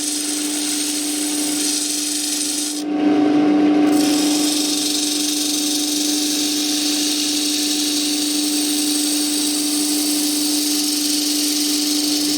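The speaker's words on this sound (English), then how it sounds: "So I'm just going to sand from 80 to 400." Steady abrasive rubbing of a power sander on pohutukawa wood, working through grits from 80 to 400, over a constant motor hum, continuous and close, with a brief pause in the middle.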